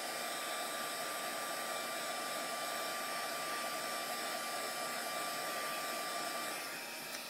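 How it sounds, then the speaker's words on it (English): A heat gun blows continuously to dry homemade glimmer mist made with yellow food colouring, a steady close-up whooshing roar with a high whine that holds level before easing slightly at the very end. "I'm going to use my heat gun for a minute."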